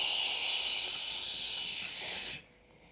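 A voice gives a loud, sustained shushing hiss for a librarian ghost, imitating the sound as a steady breathy rush that cuts off abruptly near the end, leaving quiet.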